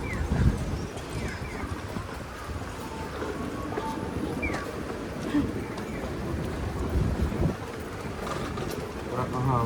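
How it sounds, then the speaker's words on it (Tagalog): Low, rumbling wind buffets the microphone steadily throughout, with faint scattered background sounds beneath the blustery noise. "Parang ang hangin."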